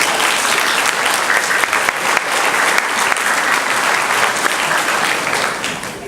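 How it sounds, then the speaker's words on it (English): Loud, dense applause fills an elementary school graduation ceremony, steady and sustained from start to finish with no break. "Applause, guys."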